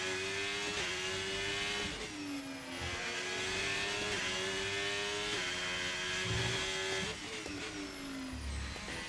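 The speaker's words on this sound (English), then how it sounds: "My car is not making very nice noises on the engine." A racing car engine on the Monaco street circuit in a video game screams loud and steady at high revs, its pitch dipping and climbing again through a few gear shifts, with no talk.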